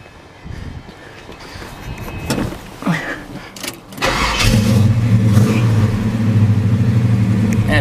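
A 1970 Chevrolet El Camino SS with a 454 big-block V8 and Flowmaster exhaust cranks and fires up after a few clicks and shuffles, then settles into a loud, deep, steady rumble close by.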